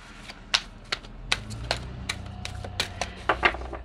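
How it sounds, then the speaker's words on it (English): Tarot cards are shuffled by hand, a quick run of crisp, close riffling snaps and soft flutters in an otherwise quiet room, with no talking. "So I'm just going to mix the cards up and we'll see where your energy sits."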